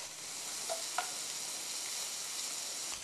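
Scallops sizzle quietly in a frying pan with garlic and sun-dried tomato, a soft continuous hiss with a couple of faint clinks or stirs.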